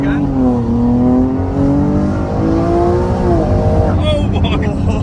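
A Ferrari 296 set to race mode accelerating hard on the road, its engine note climbing through the revs then dropping at a gear change, loud and close inside the car.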